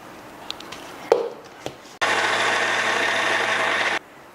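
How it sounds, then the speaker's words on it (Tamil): A wet grinder starts up to grind soaked peanuts and rice with water into dosa batter, a steady loud whirring hum running for about two seconds after a few kitchen clatters, then stopping abruptly. "இப்போ தண்ணி ஊற்றி அரைச்சிக்கலாம்."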